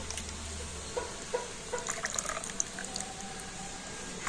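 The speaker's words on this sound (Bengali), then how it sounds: "আর এখন আমি এই মিক্সি জারের মধ্যে খুব অল্প একটু সামান্য পরিমাণে জল দিয়ে দিচ্ছি" A little water is poured into a mixer grinder jar, making a faint trickling, splashing sound with a few soft drips and clinks, and no one speaking.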